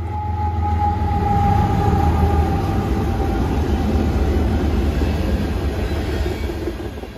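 Norfolk Southern mega freight train with tank cars and sand hoppers passing close by on the Chicago line in Holland, Ohio, a steady loud rumble of rolling wheels with rhythmic clatter and a faint tonal squeal.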